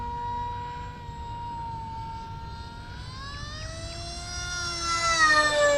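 Hobbyking SU-35 RC model jet flying under throttle, a steady electric whine that shifts and rises in pitch as it passes, growing louder toward the end over outdoor background noise.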